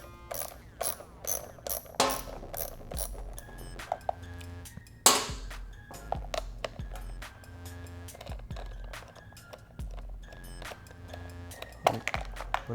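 Rapid ratchet clicking while loosening an 8mm hex bolt on the rear fender of a 2012-2016 Honda CBR1000RR, steady bursts of close metallic ratcheting with occasional clinks of tools and parts.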